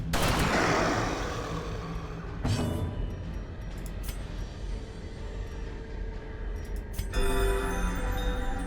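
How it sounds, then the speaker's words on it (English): Grapeshot volley in the video game Darkest Dungeon, a loud booming blast at the start that rolls off into rumbling, with further sharp reports around the middle and another burst near the end, no voices. "Grape shot on all of them."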